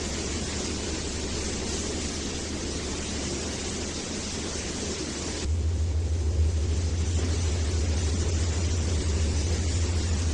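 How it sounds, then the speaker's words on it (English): A heavy truck in the Trainz 2019 train simulator rumbles steadily under broad hiss, its low engine drone getting louder and deeper partway through, with no talking. "Cool when the truck sounds work properly."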